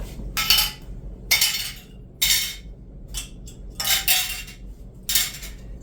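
Several separate clinks of glass jars set down in a hard dish, about six sharp knocks spaced roughly a second apart, close and fairly loud.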